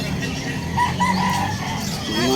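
Roosters and hens at a Bulacan pet market crow and cluck amid steady crowd noise, a drawn-out crow rising briefly in the middle.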